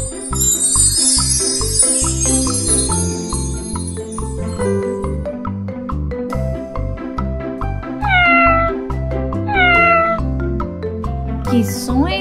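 A cat meows a few times, clearly and close, over a cheerful looping children's tune with a light jingling at the start, in an animal-sounds guessing game.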